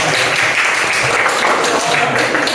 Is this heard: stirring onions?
no